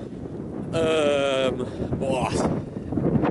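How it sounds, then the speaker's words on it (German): Strong wind buffeting a microphone while a man walks through open fields on a sunny day, loud rumbling gusts that swell and ease, with someone talking and exclaiming over it. "Aber der Wind bläst mir ins Gesicht, das ist unglaublich."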